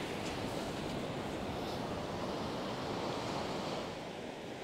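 Ocean waves break and wash steadily onto a beach during surf fishing, a continuous loud roar of surf with wind noise and no voices.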